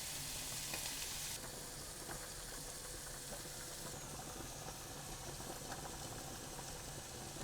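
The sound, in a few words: prawns frying in a pan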